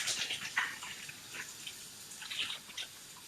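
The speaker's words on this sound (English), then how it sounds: "Just rinse my hands real quick." Hands being rinsed under a running kitchen tap, a steady light splash of water with uneven patters and drips, close and fairly soft, no talking.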